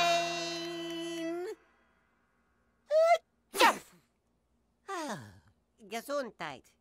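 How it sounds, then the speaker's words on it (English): A cartoon character in a VeggieTales silly song gives one sharp, explosive sneeze after a held sung note, followed by short gasping and whimpering vocal sounds, all close and clear. "Sneeze if you have to."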